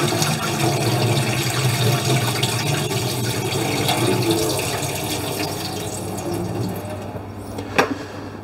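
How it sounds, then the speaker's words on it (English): Water drains from a jar of preserved olives in a steady, close pouring rush that tapers near the end, with a brief clink or splash just before finishing; no talking. "Okay, let's drain the olives."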